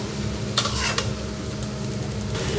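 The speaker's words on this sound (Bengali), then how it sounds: "আমি কড়াইতে তেল দিলাম পেঁয়াজ দিলাম তরকারিগুলো ঢেলে দিলাম" Chopped vegetables tipped into hot oil and onions in a wok give a steady close sizzle, with a brief clatter of a utensil against the pan and stirring scrapes.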